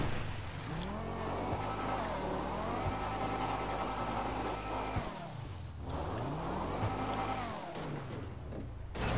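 Video game car engine revving hard, rising and falling in pitch in two long sweeps, loud and close, with tire squeal mixed in.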